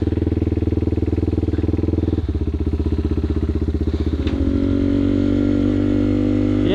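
Yamaha TW200 motorcycle with a new battery, its single-cylinder engine thumping steadily at idle up close, then settling into a slightly higher, smoother running note partway through; no voices.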